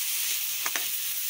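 Tomatoes stirred in a hot pan while cooking bangus (milkfish) with tausi (fermented black beans), giving a steady close sizzling hiss with two quick stirring knocks near the end.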